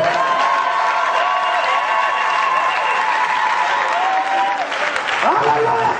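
A church congregation bursts into loud, sustained applause, a dense steady wash of clapping that fills the room before tapering into a brief shift near the end.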